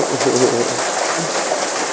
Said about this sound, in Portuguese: Chuva, quanta chuva, né?